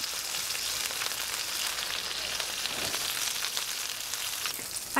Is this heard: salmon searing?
yes